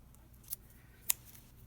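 Two quick, crisp snips of scissors cutting paper, spaced about half a second apart, faint against a quiet room background.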